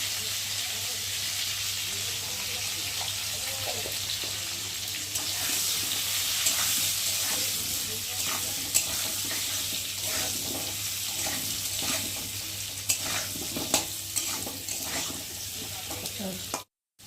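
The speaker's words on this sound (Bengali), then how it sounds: "আর এখন এই দেখো পেঁপেগুলো ভালো ভাজা হয়ে গেছে।" Papaya pieces seasoned with a little turmeric frying in hot oil in a pan for a chicken curry: a steady, close, broad sizzle with occasional small stirring clicks throughout, and no talking.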